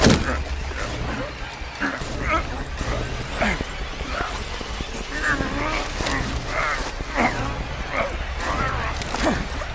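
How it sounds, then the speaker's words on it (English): A street dog barks in the video game Call of Duty Black Ops Cold War, giving repeated sharp barks and yips through the whole stretch over steady in-game ambience. "That street dog should have been put down long ago."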